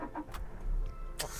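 A Toyota Innova Crysta with the 2.5 diesel engine starts up: a brief crank and then a steady, close mid-range engine rumble, with no speech.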